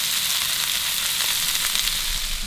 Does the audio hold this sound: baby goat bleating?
no